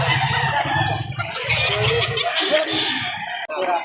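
Small chicken at a poultry market in Lipa City, Batangas, crowing and clucking loudly nearby in repeated bursts, with a brief low voice underneath.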